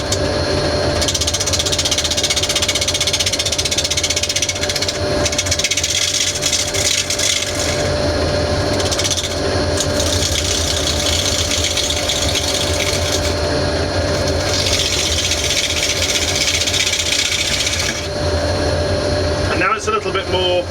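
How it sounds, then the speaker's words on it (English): Wood lathe turning a piece of laburnum wood for a cakestand, a steady loud mechanical whir with broadband rushing noise that swells and fades in long stretches, close and continuous. "I can speed the lathe up quite a bit"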